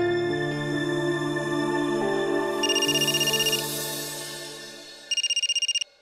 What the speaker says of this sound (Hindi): गुरुदेव का फोन है